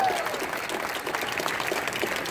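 A comic con panel audience at an LA Power Rangers reunion breaks into steady, dense applause and cheering, loud and continuous throughout with no clear speech over it.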